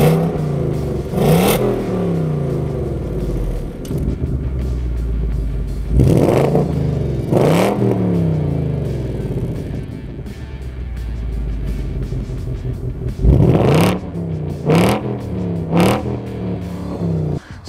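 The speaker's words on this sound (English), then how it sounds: "you can really turn up the volume on the exhaust" A 2020 Ford Mustang GT with valved exhaust in a loud sport mode, revved repeatedly in sharp bursts, each rise followed by a falling crackle, with lower idle rumble between the blips.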